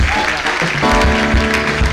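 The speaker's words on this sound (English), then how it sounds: "If you are clapping, clap better." Church congregation clapping during a Sunday prophetic service, loud and continuous, with a voice and sustained tonal sound running over it.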